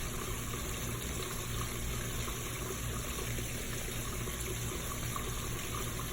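Water flows and gushes steadily and evenly for several seconds, a broad continuous wash with no pauses, close and fairly loud.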